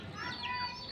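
A pet chicken in a village gives a brief, close cluck, a single short call heard on its own.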